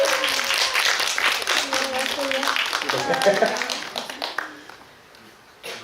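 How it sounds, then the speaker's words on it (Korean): A cinema audience at a film talk event applauds the actor, scattered clapping mixed with voices and chatter that thins out toward the end. "저희 박수 부탁드리겠습니다. 네, 박수 한번 보내주시죠"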